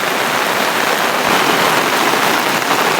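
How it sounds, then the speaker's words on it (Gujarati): Heavy monsoon rain pours down in Chhota Udepur, a dense, continuous hiss of drops striking surfaces with no pauses and no voices. "ફાઇનલી આજે છે ને ગાઈસ વરસાદ આવી ગયો છે એમ"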